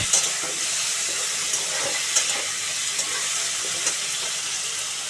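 Whole spices and asafoetida crackle in hot oil as a tempering for a vegetarian jackfruit curry, making a loud, steady sizzle at close range with faint spoon scrapes.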